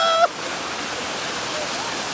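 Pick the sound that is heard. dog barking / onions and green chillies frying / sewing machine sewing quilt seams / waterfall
waterfall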